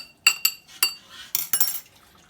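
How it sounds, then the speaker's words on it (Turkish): A spoon clinks against a bowl while stirring a prepared sauce for a rock caper salad: several sharp metallic taps in an uneven rhythm, close and moderately loud, with no voices. "bu hazırlamış olduğumuz bu sosu karıştırıyoruz böyle."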